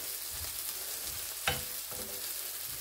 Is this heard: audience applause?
no